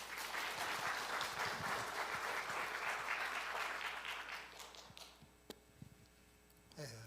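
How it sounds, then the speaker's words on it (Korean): Church congregation applause welcoming a guest pastor at a worship service, a full, even burst of clapping that tapers off after about five seconds into a few scattered claps and quiet room tone. "우리 강사 목사님 박수로 환영해 주시기 바랍니다"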